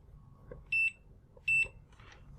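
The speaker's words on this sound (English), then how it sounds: "click these together, beeps. That's a continuity test." A multimeter in continuity-test mode gives two short, steady electronic beeps about three-quarters of a second apart, each clear and high-pitched, over faint background hum.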